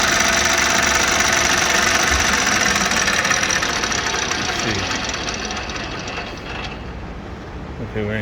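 A Standard-Modern 1133 engine lathe runs at high spindle speed, giving a steady, dense mechanical whir and gear hum that continues throughout and eases slightly toward the end, close and loud.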